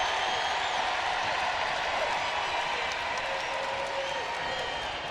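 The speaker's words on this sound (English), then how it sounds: "The crowd gets loud here in Columbia." A basketball arena crowd in Columbia roars and applauds steadily during a South Carolina versus Auburn women's game, a dense, sustained wall of cheering with a commentator talking over it.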